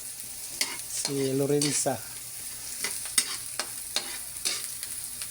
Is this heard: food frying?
yes